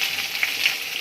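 Pointed gourd, papaya and taro frying in oil with a dried chilli and cumin tempering make a brief, steady, close sizzle broken by a couple of small pops, with no talk.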